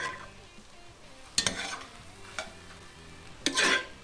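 Ground meat for chili browning and being stirred in a pot, a steady low sizzle broken by several sharp scraping stirs, close and moderately loud, with no talking.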